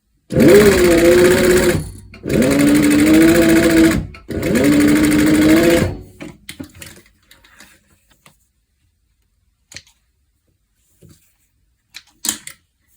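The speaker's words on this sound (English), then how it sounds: "So we're going to stitch this side just straight." A sewing machine stitches a straight seam on a leather corset in three loud, rapid running bursts of about two seconds each, then falls quiet apart from scattered small clicks and handling sounds.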